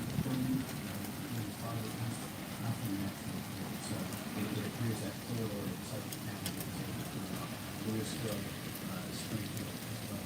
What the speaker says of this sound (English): it's hailing now again. Really bad. It's not big, but like it's hailing.